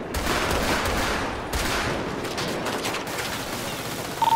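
Sustained gunfire in a video game shooter during a team firefight, a dense, continuous rattle of shots that stays loud and close throughout, with a brief sharper burst near the end.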